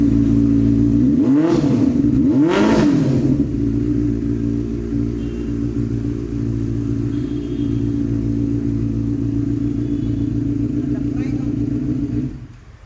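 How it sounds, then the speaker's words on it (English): Aftermarket dual muffler exhaust on a used motorcycle in a showroom, loud and close, rising in two sharp revs early on before settling into a steady deep rumbling idle that runs until it cuts off near the end. "You heard that massive dual muffler exhaust."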